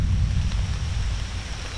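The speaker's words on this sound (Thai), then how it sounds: "เหมือนฝนจะตกนะแล้วก็ตกจริงๆ" Heavy rain pours over a forest stream during a downpour, a dense steady low rushing hiss with no talk.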